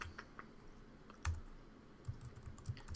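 Keys pressed on a computer keyboard while entering an import shortcut during Android coding work, a handful of quiet, close clicks and taps scattered over a few seconds with a soft background hiss.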